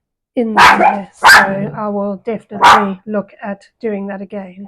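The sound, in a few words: dog barking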